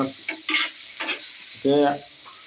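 Masala for a toddy-shop-style squid curry sizzling in a pan while it is stirred in a few short scraping bursts, with a louder, fuller sizzle near the end.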